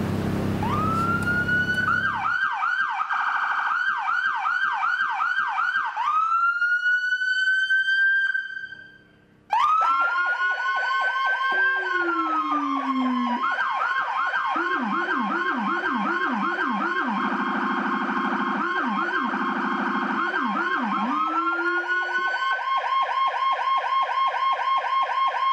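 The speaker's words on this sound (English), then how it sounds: "we actually have a howler equipped from Whelen, so you have 2 different siren tones playing simultaneously with the addition of a howler" Whelen siren on a paramedic Chevy Tahoe, two wailing and yelping electronic tones sounding together, joined midway by a deep low-pitched howler sweep; loud, close and continuous with a brief cut near the middle, no talking.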